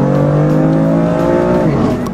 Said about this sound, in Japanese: 今日ちなみに BMW の M4 を借りてドライブしてるんですけど、めちゃくちゃ気持ちいい車です。